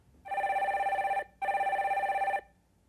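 A telephone rings as a caller is connected to a live stock-market broadcast: two long electronic ring bursts separated by a short gap, loud and clear with no talk over them.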